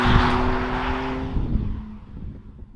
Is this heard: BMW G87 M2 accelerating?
yes